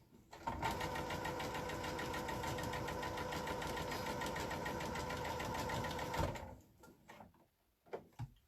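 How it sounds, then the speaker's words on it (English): A sewing machine stitching sashing onto a quilt top, running in a steady fast mechanical hum with rapid needle ticking for about six seconds, then stopping, followed by a few handling clicks and knocks. "I'll get some sewing done now."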